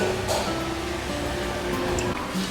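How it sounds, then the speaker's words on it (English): Steady rushing water from a waterfall at a Thai café in Chiang Rai, a continuous broad hiss with a faint low hum underneath and no clear voices. "Waterfall."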